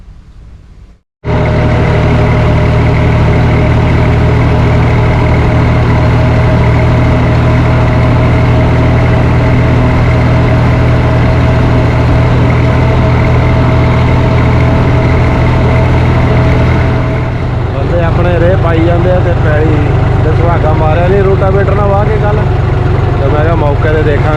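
A heavy tractor engine starts and then idles with a loud, steady low rumble; toward the end a voice speaks over the running engine.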